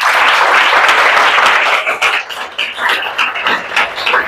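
A crowd applauds loudly, steady clapping for about two seconds, then thinning into scattered, fading claps.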